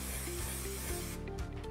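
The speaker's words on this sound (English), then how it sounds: "You can see that the hairspray comes out in a fine, even mist" Hold For Sure hairspray misted onto a poodle's coat, a steady close hiss of spraying that breaks off partway, followed by faint rubbing sounds.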